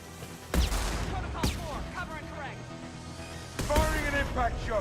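Mass Effect 2 impact shot gunfire: two or three heavy, booming blasts spaced seconds apart, each followed by ringing electronic whines, with someone talking in between.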